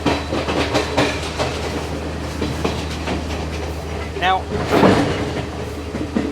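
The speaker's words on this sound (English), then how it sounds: "should I put music over the top of the train or leave the ambient sound of the train rolling?" A passenger train rolling on the Colombo to Kandy railway in Sri Lanka gives a constant rumbling clatter with rhythmic wheel clicks and a brief metallic squeal. A voice speaks briefly over the carriage noise.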